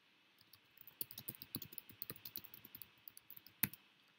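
Faint, rapid clicks from a mouse and keyboard at a computer come in a quick irregular run. One sharper, louder click stands out near the end of the quiet run.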